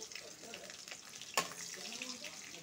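Panch phoron and green chillies are tipped into hot oil for a bottle gourd and bori dish, sizzling and crackling steadily, with a sharp splash as they land.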